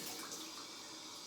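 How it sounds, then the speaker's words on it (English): Water splashing at a bathroom sink as a face is rinsed during a shave with a Rockwell razor, a steady close, soft broadband wash of running and splashing water with no talk. "I'm going to splash my face again."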